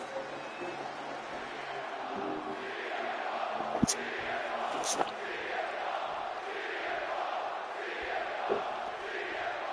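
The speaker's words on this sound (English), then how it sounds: "And just listen to this crowd here in Chicago." A steady arena crowd in a wrestling video game (WWE 2K26) roars continuously in the background, with a couple of sharp thuds rising above the cheering.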